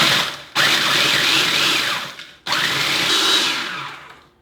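About 12 full graham crackers pulsed into crumbs in a food processor for mini cheesecakes, two loud sustained whirring bursts, each starting abruptly and winding down, close and alone.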